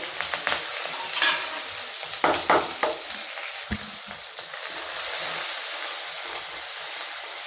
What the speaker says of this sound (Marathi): तडतडू द्या तेलामध्ये त्यानंतर थोडंसं जाणार आहे जिरं हे कांदा त्यानंतर कापलेलं मिरची आणि कढीपत्ता आहे